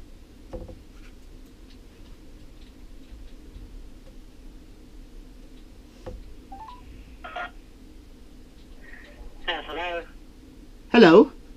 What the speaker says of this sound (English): Well, I'll call back from my own cell phone.